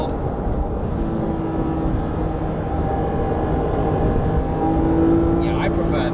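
Porsche GT3 RS with 4.0-litre engine under way, a steady loud engine roar and road drone filling the whole stretch, swelling slightly toward the end.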